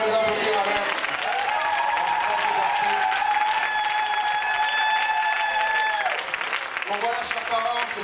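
A church congregation applauds after a Sunday school presentation, steady clapping throughout while a sustained melodic tone, like an organ or keyboard chord, rings in the middle and fades.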